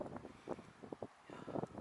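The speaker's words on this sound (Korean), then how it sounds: "바람이 불어서" Wind blows across an outdoor garlic field, a faint rushing rumble with buffeting gusts and rustling pulses against the microphone.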